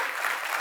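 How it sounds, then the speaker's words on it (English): An audience claps at the 150th Foundation Day celebration at IACS, a dense, continuous burst of applause from a crowd. "If you're happy, clap your hands."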